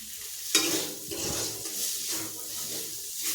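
Curry thinned with a little water to a gravy being stirred and fried in a pan: a continuous close sizzle with wet scraping strokes and a sharp clink near the start.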